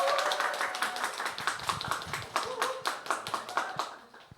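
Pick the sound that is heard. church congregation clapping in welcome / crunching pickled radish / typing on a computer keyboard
church congregation clapping in welcome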